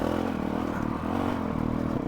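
A Honda CRF 450 RL off-road motorcycle engine running steadily up close, with a loud buzzy, rhythmic thrum and slight throttle swells, unbroken and without speech.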